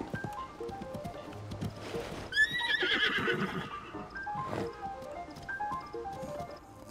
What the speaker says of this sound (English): I wasn't quite expecting a moblin on a horse to show up.